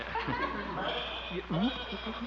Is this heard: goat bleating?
yes